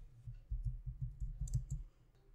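Typing a command on a computer keyboard, a short run of soft, dull keystroke clicks in an even rhythm, close and fairly quiet, with no one speaking.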